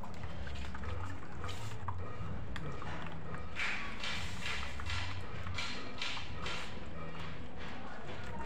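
Water trickling and splashing through a Plason-type automatic livestock drinker, a faint continuous wet dribble with intermittent clicks and small splashes, close and steady throughout.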